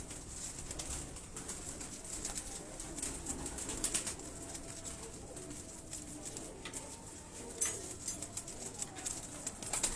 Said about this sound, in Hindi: ये सारे इस वक्त जुरे फैमिली के कबूतर खड़े